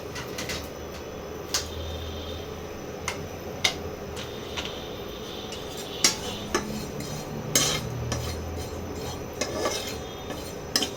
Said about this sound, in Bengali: এটাকে খালি খোলায় ভেজে এটা গুঁড়ো করে নিতে হবে।